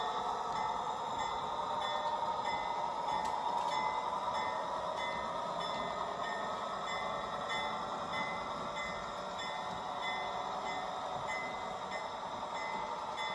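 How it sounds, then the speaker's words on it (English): A PIKO RC GE 25T model locomotive rolls into a layout station with a steady, even motor hum and a faint thin whine, running alone and unbroken without any voices. "So here the train is pulling into Lanark Station"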